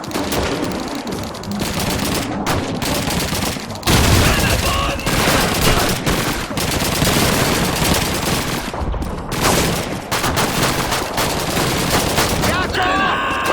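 Sustained gunfire from a multiplayer shooter game, with dense loud bursts and volleys running almost without a break and a heavy blast partway through, while voices talk underneath.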